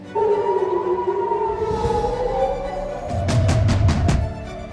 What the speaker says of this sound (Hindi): अचानक सायरन की आवाज गूंजने लगी